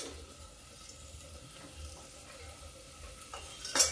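Boiled and fried potatoes stirred into cooking masala for dhaba-style aloo dum make a soft, continuous sizzle with gentle scraping and stirring, ending in a brief clink of a utensil against the pan.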